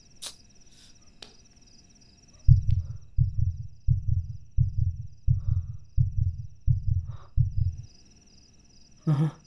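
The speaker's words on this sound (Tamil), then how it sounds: "ஹார்ட் பீட் ரொம்ப ஏறக்குடா." A heartbeat sound effect from a Tamil short film pulses in steady low double thumps, about eight beats in a row, loud and close against a faint high insect-like whine.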